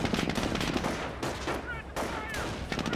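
Rifle fire from G43 squads in the game Company of Heroes, rapid overlapping shots and bursts of battlefield fire, loud and continuous, with distant combat noise and faint voices mixed in.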